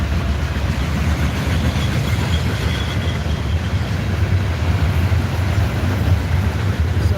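A train rolls along tracks running beside Highway 90. There is a continuous heavy rumble of wheels and rail cars, loud and close, steady throughout with no voices.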